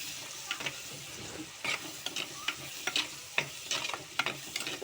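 Food with turmeric sizzles and crackles in a hot pan while a utensil scrapes and stirs in irregular bursts, close up.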